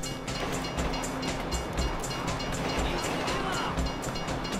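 A train in Grand Theft Auto 5 rumbles past with a steady rhythmic clatter of wheels on rails, loud and close, under a continuous roar of game noise.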